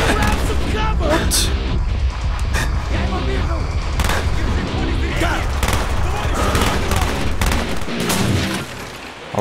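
Loud, close gunfire rattles in dense bursts and single cracks during a Call of Duty Black Ops firefight, mixed with booms, game music and voices shouting over the shooting.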